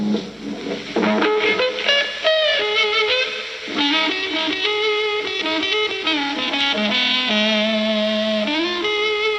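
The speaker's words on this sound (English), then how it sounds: "The woman tone is produced by using either the bass pickup or the lead pickup" An electric guitar plays bluesy lead lines with bends and slides in a warm, muted "woman tone", continuous and fairly loud with no talking.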